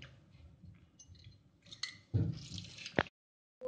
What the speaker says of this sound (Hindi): अब इसमें एक नींबू निचोड़ देंगे।